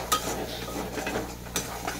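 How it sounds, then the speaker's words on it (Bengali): Ground spices being stirred and fried in a wok for a country chicken and new potato curry, with soft sizzling under a few sharp scraping strokes of a spatula against the metal. "আবার এইভাবে কষে নেবো।"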